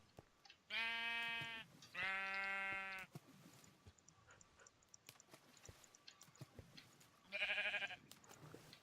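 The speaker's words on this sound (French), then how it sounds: "Allez, les moutons, on vient. Les moutons, ils arrivent." Sheep bleat loudly and close by, with two long calls in a row and a third after a pause, amid faint shuffling and rustling in a quiet outdoor setting.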